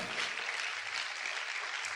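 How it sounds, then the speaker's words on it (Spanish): Church congregation clapping loudly together, a dense, even wash of many hands sustained throughout at moderate distance, with no speech over it. "Vamos a aplaudir fuerte al Señor"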